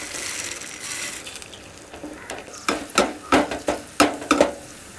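Black nightshade seeds fry in a little sesame oil in a tempering ladle, a sizzling hiss that gives way to a run of sharp, regular clicks and pops, close and fairly loud.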